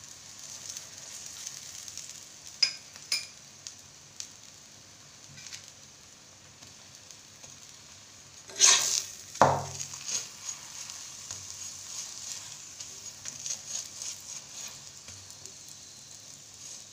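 A cauliflower-stuffed paratha cooks in oil on a hot pan, giving a faint, steady sizzle with a few louder crackles and spatters partway through.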